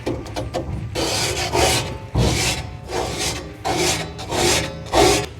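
Repeated rasping scrapes of a plastic putty knife across the surface of a Hasty Bake Legacy grill with bubbled powder-coat paint. The strokes are loud, close and rhythmic, each lasting about half a second to a second, with short gaps between them.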